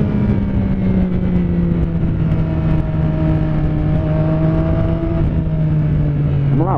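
A car engine accelerates on a straight, a loud sustained drone rising steadily in pitch through several gears, with no voices heard.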